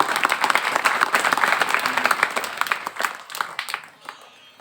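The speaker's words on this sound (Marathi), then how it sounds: "त्यांचं सर्वांनी एकदा टाळ्या वाजून स्वागत करूया." An audience at a devotional gathering for Shree Datta in Sinnar taluka, Nashik district, claps in sustained, dense applause that stays loud and then gradually thins out toward the end.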